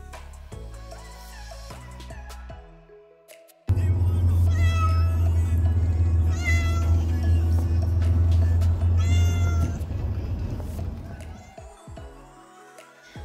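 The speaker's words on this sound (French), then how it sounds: "Voilà la belle Oumi qui a fait que de miauler tout le long du trajet." A cat meows repeatedly from inside a carrier during a car trip, its loud drawn-out cries riding over a steady low engine drone, with a voice faintly audible now and then.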